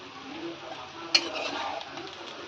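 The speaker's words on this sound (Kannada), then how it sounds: "ಎಲ್ಲಿಟ್ಟಿರ್ತೀರ ಅದು ತೊಗೊಂಡು ಮತ್ತು ಅಳ್ಳಾಡ್ಸಕ್ಕೆ ಚಾಲೂ ಮಾಡಿರಿ." A spoon stirs poha, flattened rice, in a pan over a faint sizzle, with soft continuous scraping and one brief metallic clink, close and with no talking.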